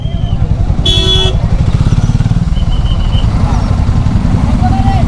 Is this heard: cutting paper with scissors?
no